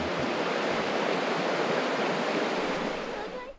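Clean, cold water of the South Fork of the Trinity River rushes in a steady, loud broadband wash close by, with no voices, easing off slightly at the very end.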